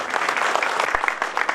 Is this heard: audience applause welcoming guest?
yes